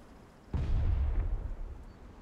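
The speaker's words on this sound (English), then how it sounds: "There's gunfire this way. And explosions." A single deep boom from an explosion or heavy gunfire in the battle royale game Cuisine Royale, sudden onset with a rumbling tail lasting over a second, fairly distant and moderately loud.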